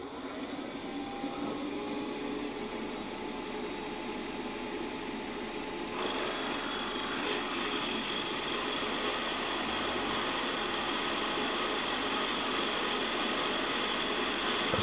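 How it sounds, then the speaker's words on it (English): Drilling a 6 mm deep tapping hole for a 5BA thread in a Stuart Models S50 model engine part: a steady mechanical whir that rises and grows louder partway through, running alone without talk. "I can drill down 6mm deep with a tapping drill for the 5BA."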